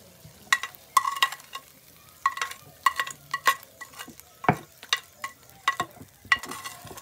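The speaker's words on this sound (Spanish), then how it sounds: "Le vamos a revolver muy bien todo el chorizo" Cooked chorizo is stirred into potato for quesadilla filling, giving a string of irregular scraping, clacking strokes of a utensil against the pan over a soft, steady sizzle, close and fairly loud, with no talk.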